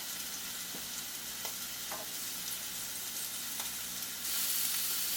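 Five zucchini grilling on a Delonghi Perfecto indoor grill give off a steady, quiet sizzle with a few soft ticks and pops, rising to a brighter hiss near the end.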